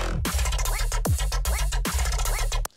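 Dubstep growl bass synth, loud and gritty, pulsing in rhythmic wobbling bursts for under three seconds before cutting off abruptly.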